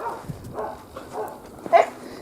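Dogs bark near a village house by a stream, giving several short, moderately faint barks spaced at a loose, irregular rhythm, with a slightly louder yip near the end, heard from some distance.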